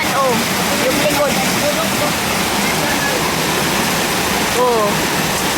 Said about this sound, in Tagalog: Tapos, sa taas, si Rosan, maraming tulo doon sa bubungan namin